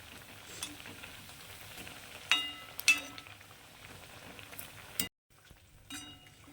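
Odisha-style rice cakes (kankada pitha) frying in oil with a quiet, steady sizzle, broken by a few metal clinks and scrapes of a utensil before it cuts off.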